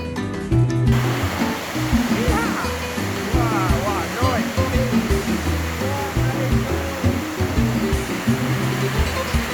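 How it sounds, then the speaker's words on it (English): Dense, steady roar of heavy rain pouring down, filling the whole clip at a constant loud level, with faint music-like tones underneath. "Pouring down with rain. When it rains, it really rains."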